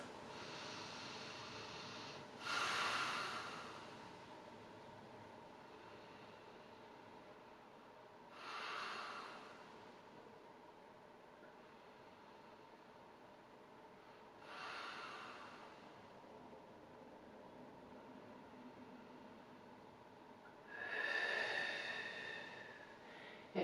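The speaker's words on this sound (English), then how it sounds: "we're going to take 10 nice big breaths" Four slow, deep breaths during a spine-soothing yoga pose, each a soft rushing exhale spaced several seconds apart over a quiet room, the last one the fullest.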